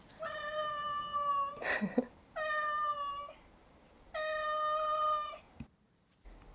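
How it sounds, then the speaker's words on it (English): A cat meows three times, drawn-out harmonic wails with pauses between, fairly close, with a brief clatter after the first call. "And my cat is here."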